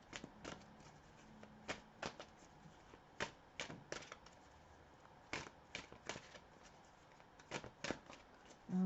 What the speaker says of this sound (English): So let's pull some cards here just to clarify each row.